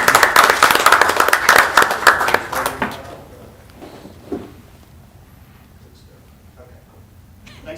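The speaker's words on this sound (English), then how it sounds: "Let's get a round of applause." Round of applause from a small group at a City of Satsuma council meeting: a few seconds of brisk, close clapping that stops abruptly, followed by quieter room noise with faint voices and scattered taps.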